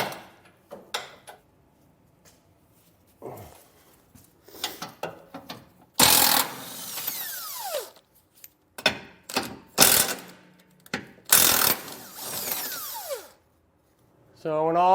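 A power tool removing bolts while fitting a trailer hitch receiver on a 2022 Chevrolet Colorado whirs in several loud bursts, spinning up and winding down with falling pitch, between stretches of quieter clicks and handling sounds.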